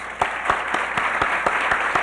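An awards-ceremony audience applauds two honorees as they stand, many hands clapping together with sharp, regular claps standing out from the dense wash of the crowd.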